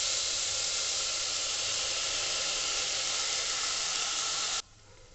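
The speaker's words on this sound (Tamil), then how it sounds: "இப்போ தக்காளி ஆட் பண்ணிடலாம்." Tomatoes hit hot oil with frying onions in a pan for a Tamil tomato kurma, giving a loud, steady, broadband sizzle that runs unbroken for several seconds, then drops abruptly to a much quieter hiss.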